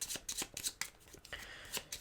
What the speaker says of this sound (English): Each player, they're going to shuffle their deck of cards.